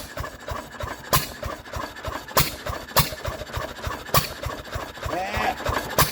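A Ruston PB9 stationary engine runs just after starting, a slow steady thumping beat with sharp periodic knocks roughly every second, fairly close, with a voice briefly present.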